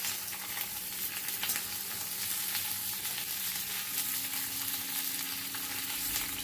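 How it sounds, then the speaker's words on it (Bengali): Onion and capsicum sizzle steadily in a frying pan, with a constant hiss as they are stirred and mixed. The frying stays even and close throughout and no one speaks. "এবার সব কিছু ভালো করে মিশিয়ে দিয়ে নাড়াচাড়া করে নিচ্ছি।"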